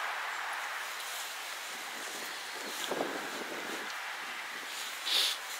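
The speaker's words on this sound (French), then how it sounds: "je peux vous dire que le vent il est complètement glacial" Cold, icy wind blows steadily outdoors at a spot near the water, a broad continuous rush of gusting air buffeting the microphone with a brief louder flurry near the end.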